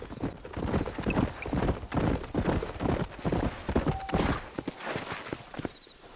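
Horse hooves clip-clop at a steady trot on a dirt trail in the Wild West game Red Dead Redemption, the rhythmic beats close and continuous throughout, with a brief whinny mixed in.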